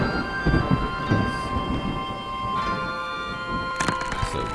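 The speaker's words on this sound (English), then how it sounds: "So you can see it's playing a rain and distant thunder and the generic music that you hear." Rain with distant thunder from the video game Dwarf Fortress, a steady wash of rainfall with low rumbles under droning generic game music that holds long tones, brief sharper accents near the end.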